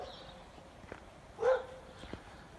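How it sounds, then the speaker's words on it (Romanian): A single dog bark rings out at a distance on a snowy winter mountain trail near Cantacuzino Castle in Bușteni, with faint footsteps and quiet outdoor ambience around it. "Un câine care le latră, cine știe din ce cauză."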